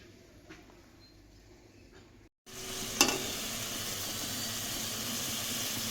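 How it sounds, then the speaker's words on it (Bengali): Mustard and green chilli paste cooking with yogurt in a pan, starting as a faint low sizzle, then a sudden loud, steady frying hiss with one sharp scrape of a spoon, with no voices. "মশলা থেকে একটু তেল ছেড়ে দিলে একটু কষে নেব ভালো করে"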